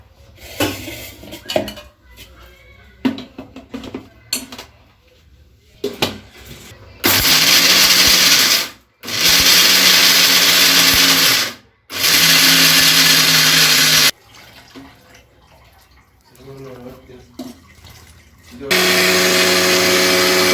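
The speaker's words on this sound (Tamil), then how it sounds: "தேங்காய் பால் எடுக்கிறதுக்கு இதெல்லாம் போட்டு ஆட்டிக்கலாங்க" Electric mixer grinding coconut to make coconut milk for idiyappam, running in several loud sustained whirring bursts with pauses of clattering lid and jar handling between them.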